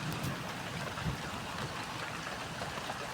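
Steady rain pours down as a dense, even hiss of drops striking leaves and ground, constant and fairly close with no pauses.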